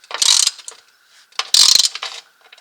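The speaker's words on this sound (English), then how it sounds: "I just got to get a wrench to tighten the back here." A wrench ratcheting while tightening bolts on a full skid plate for a Can-Am XMR 850 off-road vehicle, two close bursts of rapid metallic clicking separated by a short pause.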